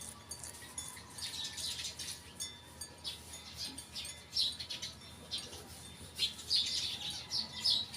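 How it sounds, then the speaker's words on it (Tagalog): Many birds chirp and tweet in morning trees, bright overlapping calls near and far, quiet but constant over a soft outdoor background. "Ang saya ng tunog ng mga ibon."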